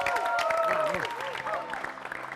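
Audience clapping bursts out on a Ramadan television variety show among market stalls, mixed with lively voices and a tonal backdrop, the applause thick and continuous.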